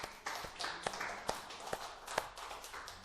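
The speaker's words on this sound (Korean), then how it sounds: "박수 한번 해주세요." Sparse, distinct claps ring out in a church, a handful of separate hand claps spaced unevenly over a few seconds with quiet room sound between them.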